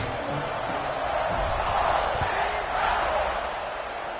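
Football stadium crowd roaring before a kickoff, a broad, sustained wash of cheering that swells and dips slightly over several seconds, with an announcer's voice under it.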